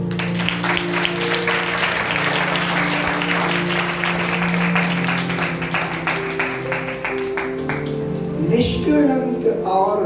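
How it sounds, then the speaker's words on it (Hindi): A church congregation applauds at a Sunday service in Delhi, a steady, dense burst of clapping that runs for several seconds, with sustained tones and some voices underneath. It thins out toward the end. "तालियां बजाएंगे।"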